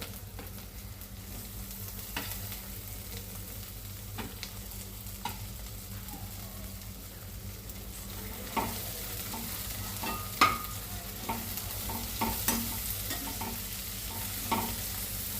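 Green chillies and lemon fry in a pan over low heat, giving a soft, continuous sizzle with occasional faint stirring clicks and scrapes, close and quiet.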